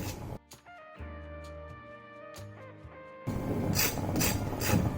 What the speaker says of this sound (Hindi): आप सुन पा रहे हैं दूसरी तरफ से भी कितना क्रिस्पी बना है